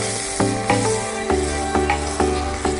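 Crushed garlic and onion hitting hot oil for a spicy goat liver masala, a steady sizzle broken by several louder bursts at regular intervals.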